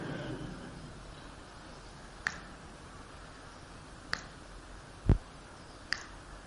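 Four sharp finger snaps, spaced apart and standing out from quiet room tone during a spiritual talk; one near the end is louder and fuller than the others.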